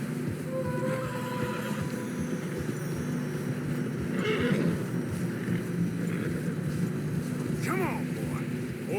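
Horses in the Red Dead Redemption II video game whinny and plod along a narrow, snowy trail, with a couple of rising neighs over a steady rumble of hooves and wind, and voices under them.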